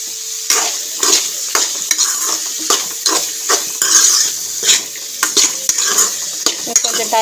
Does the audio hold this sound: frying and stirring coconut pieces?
yes